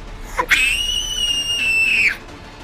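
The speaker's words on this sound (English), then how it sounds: "She's very good at screaming" A single long, high-pitched scream held for about a second and a half, loud and close, ending abruptly.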